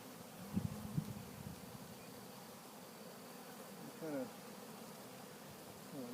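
A honey bee swarm being caught from a cedar tree drones in a faint, steady buzz, with brief louder passes from individual bees flying near.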